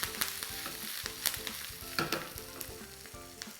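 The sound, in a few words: spices frying in oil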